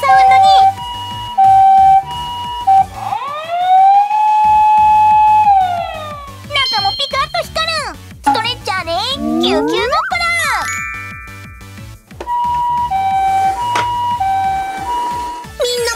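An electronic siren from a toy Nissan Paramedic ambulance wails up and down alongside tinkly jingles and chimes, loud and close, with a voice speaking over parts of it.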